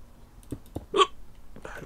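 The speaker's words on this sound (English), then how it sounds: "Hiccups." A single close hiccup pops out of quiet surroundings, preceded by a couple of soft clicks and followed by faint rustling.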